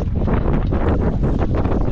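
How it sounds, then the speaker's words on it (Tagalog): Steady roar of strong wind buffeting the microphone while fishing, loud and continuous throughout with rumbling low gusts. "Lakas ng hangin."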